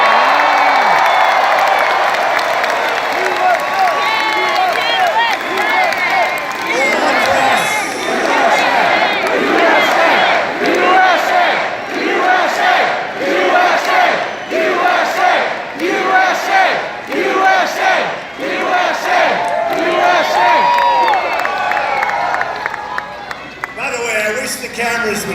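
A huge crowd at a Republican political rally in Lebanon, Ohio roars and cheers in waves, with rhythmic chanting and bursts of clapping, loud and close, fading toward the end.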